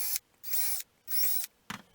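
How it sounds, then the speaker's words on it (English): A handheld drill gun boring out bolt holes, two sustained whirring bursts of about a quarter second each with pitch dips as the bit bites, followed by a short lower-pitched spin, close and loud. "I'll be taking a drill gun and drilling out the holes so that they're the correct size of these bolts"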